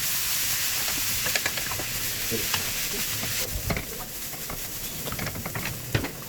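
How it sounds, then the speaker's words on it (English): Carrots and egg noodles stir-frying in a pan, a loud hissing sizzle broken by scraping and tossing sounds throughout, with no speech. "add in the noodles and continue the stir fry"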